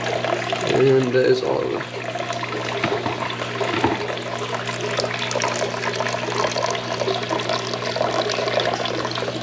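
Water pours and splashes steadily into a small turtle pond as tiny guppies are added, a continuous rushing flow heard close up while a person talks over it.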